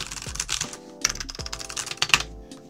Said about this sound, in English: Now I'm gonna start typing